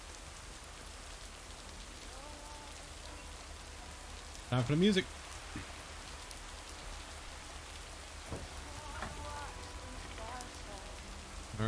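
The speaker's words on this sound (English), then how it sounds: "You'll need your raincoat all day long, and there will be a thunderstorm tonight." Steady rain patters in the Lake video game, a constant soft hiss of drops on surfaces; a brief voice and a short tonal chime cut through midway.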